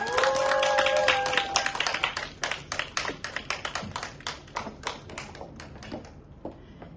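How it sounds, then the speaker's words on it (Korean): An audience at a Korean franchise business presentation applauds to welcome a speaker: loud clapping, with a brief tone at the start, thinning into scattered individual claps and fading out. "큰 박수 부탁드리겠습니다"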